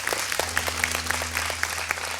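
Applause at a televised stage performance, a short burst of many hands clapping with distinct sharp claps over a steady low hum, no voices.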